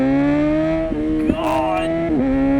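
A Honda Hornet motorcycle fitted with a Yoshimura aftermarket exhaust rides on the road, its engine droning close and steady with a few quick throttle blips and shifts in pitch.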